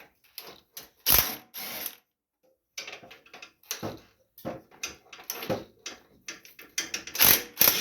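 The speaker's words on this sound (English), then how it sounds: "I'm still trying to take the bolts out here" A ratchet wrench turns out the 15 mm motor bolts on a John Deere LA105 riding lawn mower, with bursts of rapid clicking pawl ticks up close, pausing and restarting as the bolts loosen.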